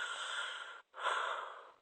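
A voice imitates a parent's slow sleep breathing, two long airy breaths close to the ear, separated by a brief pause.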